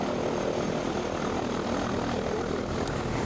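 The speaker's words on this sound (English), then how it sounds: "the next time that you see this plane or any other plane do a formation fly past" Air force planes fly past in formation, a steady engine drone that holds throughout at moderate level, with no speech.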